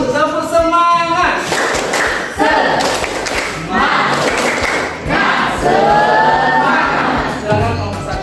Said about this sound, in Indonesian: Tepuk semangat untuk kelompok satu.